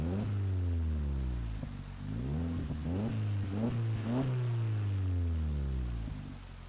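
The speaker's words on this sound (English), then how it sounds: "So let's try and hear what this car sounds like." A Volkswagen Polo GTI's catback exhaust rumbles at idle, then blips through several quick revs that rise and fall before settling back to a deep, steady burble.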